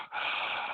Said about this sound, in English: Yes, breathing. Sound like Darth Vader.